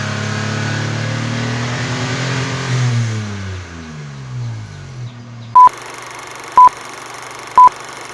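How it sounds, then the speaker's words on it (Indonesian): A Daihatsu Xenia 1000 on a night test drive after tuning: the engine revs and then winds down over about five seconds, followed by three loud, evenly spaced electronic beeps. "kita masih semangat test drive dulu Xenia 1000-nya"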